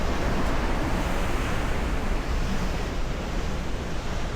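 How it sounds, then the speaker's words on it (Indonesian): Ocean surf rolls in steadily at Ngrawah Beach in Yogyakarta, a loud, continuous wash of breaking waves with wind buffeting close to the microphone and no voices over it. "Ombaknya juga enak sih sebenarnya"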